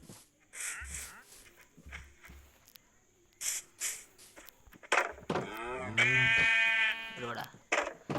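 Sheep bleat in the video game Minecraft with a few short in-game bleats, ending in a loud, drawn-out call up close. Other game sounds and a person talking mix in.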